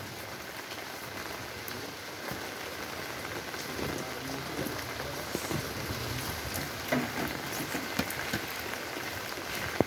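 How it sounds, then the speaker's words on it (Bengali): Steady rain patters on surfaces throughout, a continuous soft hiss with scattered drips and taps, no voices. "বৃষ্টি হচ্ছে"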